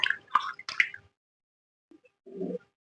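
Water drips and squishes as potato slices are rinsed by hand, a few wet splashes followed by a pause and a softer slosh.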